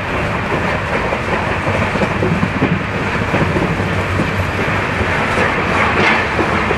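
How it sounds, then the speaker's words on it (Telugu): Pamban Express train pulling into Paramakudi railway station, a steady loud rumble and roar of the moving train continuing throughout with no voices. "మన ట్రైన్ అయితే అండి పరామకుడి రైల్వే స్టేషన్కి అయితే వచ్చేసింది"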